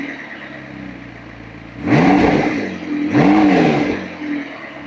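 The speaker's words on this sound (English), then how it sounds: "Try giving it some gas and see if it..." A rebuilt McLaren engine idles, then revs twice in quick succession, each throttle blip rising and falling loud and close before settling back to a steady idle with no talking.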